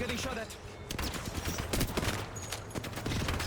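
Rapid gunfire in the shooter game Apex Legends, a dense stream of overlapping shots and bursts running steadily throughout at close range.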